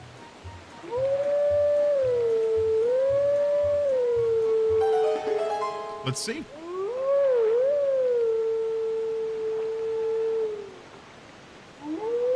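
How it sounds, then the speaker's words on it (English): Wolf howling in the Twilight Princess video game, a long melodic near howl with sliding pitch that rises, holds and falls twice, under a brief spoken remark and soft game sounds. "I guess, howl at these?"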